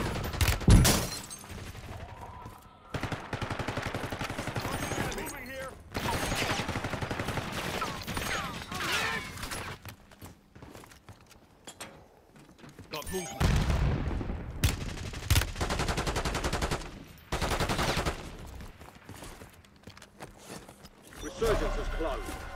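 Gunfire in a Call of Duty match, with rapid automatic bursts and single shots coming in clusters, some close and loud and others quieter, mixed with game announcer voice lines.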